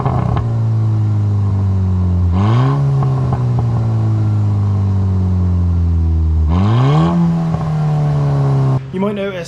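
Volkswagen MK5 Golf GTI engine with standard exhaust and resonator delete, idling steadily then revving up twice, each rev rising and falling back to a loud, close, droning idle before a short blip at the end.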